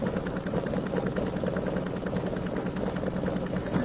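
An embroidery machine sews out a design with a fast, steady mechanical chatter, running continuously at moderate volume with no voices.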